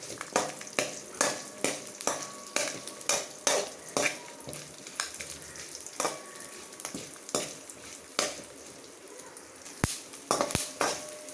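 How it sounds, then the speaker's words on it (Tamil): Spices and peppercorns fry in hot oil for a Chettinad-style fish fry, a soft sizzle under steady, rhythmic stirring clatter of a utensil against the pan, close and continuous. "நல்ல மிளகெல்லாம் பொரிஞ்சு வரட்டும்,"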